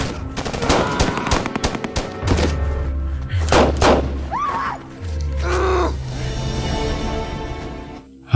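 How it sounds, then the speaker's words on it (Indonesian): Film scene gunfire with rapid bursts of automatic shots and heavy booming impacts, loud and continuous throughout, mixed with whooshing effects and brief voices. "namun Kovac berhasil menembak mati Zev"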